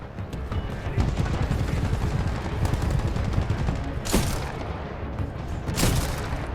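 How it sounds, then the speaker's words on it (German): Rocket launcher blasts and gunfire in the video game Titanfall 2 during a fight against enemy Titans, with a continuous rattle of shots and two loud, sharp explosive bursts standing out near the end. "wenn sie hier mit den Raketenwerfer rumschießen"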